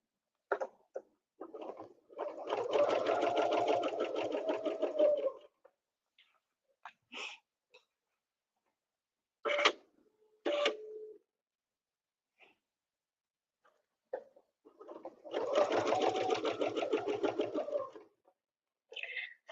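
A sewing machine runs ruler-work quilting on a Westalee snowflake design, stitching in two sustained bursts of a few seconds each with quiet gaps and small handling clicks between them.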